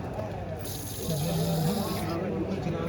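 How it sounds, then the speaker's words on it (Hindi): A Muslim shower bidet sprayer on a double bib cock sprays water in a single hissing burst lasting about a second and a half, while people talk nearby. "शावर चला"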